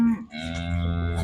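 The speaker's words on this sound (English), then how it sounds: "putting cows and calves off the grass." A cow lets out one long, deep, drawn-out moo close by in a grassy field where cows and calves are turned out on a sunny morning.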